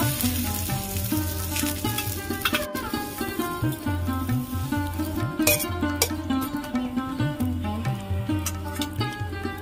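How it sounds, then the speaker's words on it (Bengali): Methi (fenugreek leaf) paratha frying in oil in a pan gives a close, continuous sizzle and crackle, with a steady low hum and occasional clatter and scraping of a utensil; no one speaks. "আমি তেল দিয়ে ভাজছি, আপনারা চাইলে ঘি দিয়েও ভাজতে পারেন।"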